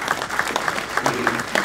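An audience at an energy-industry pitch event applauds a presenter, a brief patch of scattered, moderately loud claps with a low voice murmuring beneath.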